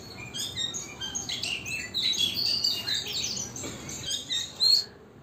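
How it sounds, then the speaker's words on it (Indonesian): Magpie robin (kacer) song in a hanging cage, a dense run of fast, varied high chirps and whistles, fairly steady and moderately close against a soft background hiss. "Untuk selanjutnya nikmati kicauannya sambil ngopi"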